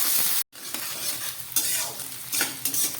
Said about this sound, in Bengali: খুব ভালো করে এটাকে ভেজে নিচ্ছি।